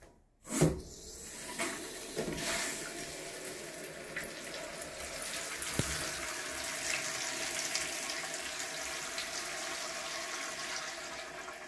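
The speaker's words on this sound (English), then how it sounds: "We're going to turn on the water supply and see if there are any leaks. Let's see if this toilet operates properly." A toilet refills after its water supply is turned back on, with a steady, rushing hiss of running water that sets in after a soft knock and carries on evenly without any talking.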